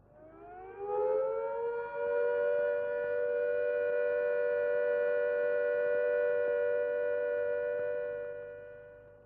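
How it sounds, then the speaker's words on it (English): A civil defense siren sounding the all-clear rises quickly and then holds one long, steady tone for several seconds before fading slightly at the end. No voices. "the siren will sound a steady note like this."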